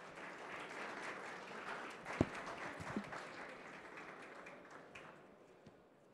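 Faint applause from an audience at an awards ceremony as a startup wins its category, a soft continuous patter of clapping with a couple of sharper knocks, gradually thinning out.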